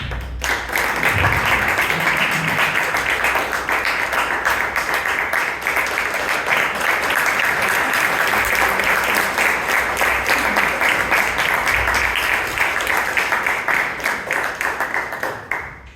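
Sustained applause from a large audience, steady and loud throughout, fading out at the very end.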